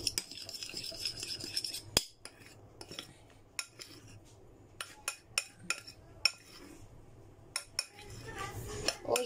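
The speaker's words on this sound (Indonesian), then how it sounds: "Kita aduk sampai merata, jangan sampai ada margarin yang mengendap di bawah ya." Cake batter with melted margarine is stirred in a bowl, and a utensil clinks and scrapes against the sides in quiet, irregular taps and rasps.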